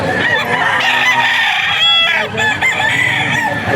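A Spartan black gamefowl rooster crows loudly and close by at the Bocaue auction market, one drawn-out cock-a-doodle call with some clucking around it and a faint murmur of the market behind.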